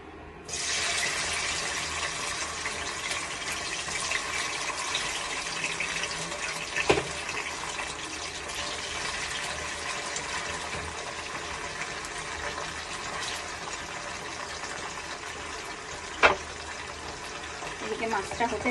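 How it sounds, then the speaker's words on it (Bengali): Small punti fish fry in well-heated oil in a wok, producing a continuous, even sizzle that holds steady throughout, with a couple of brief spatters and pops rising above it. "কড়াতে তেল দিয়ে দিয়েছি, তেলটাও ভালো গরম হয়ে গেছে। এবার আমি মাছগুলো ভেজে নেব।"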